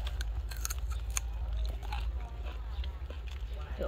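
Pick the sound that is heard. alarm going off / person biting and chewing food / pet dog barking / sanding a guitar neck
person biting and chewing food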